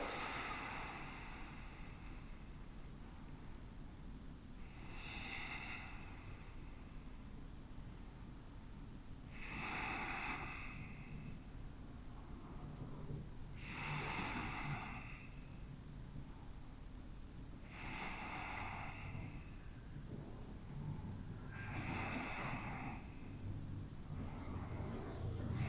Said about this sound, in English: take one more deep inhale. And exhale, let it all go.